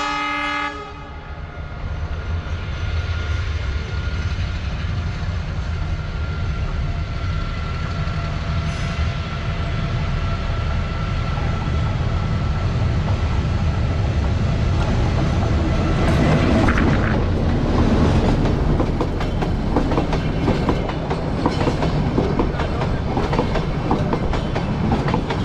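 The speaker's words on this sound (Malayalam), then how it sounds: "അങ്ങനെ ടോയ് ട്രെയിൻ വരുന്നുണ്ട്." A toy train in the Ketti valley near Ooty rolls past for a long stretch, its horn sounding near the start and steady clickety-clack rumble building louder toward the end, with no talk.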